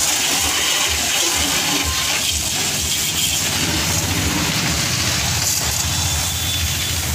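Water sprays hard over a Maruti Suzuki Eeco during a foam car wash, a loud continuous hissing rush with steady splashing and no talk.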